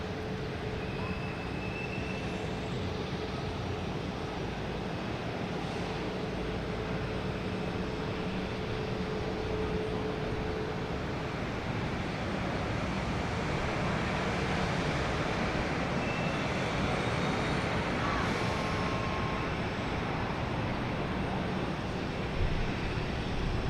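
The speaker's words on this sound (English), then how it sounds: "You got American Airlines coming in from Phoenix." An American Airlines plane arriving from Phoenix at Boston Logan Airport gives a steady, broad roar that fills the whole stretch, holding level and swelling slightly near the end.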